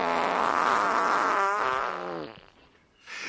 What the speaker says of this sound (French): Soudain, il se met à péter bruyamment.